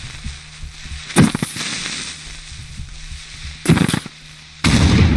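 A creeper explodes in Minecraft on hard mode: loud, sharp blasts with crackling tails burst out at intervals, then settle into a quieter background hum.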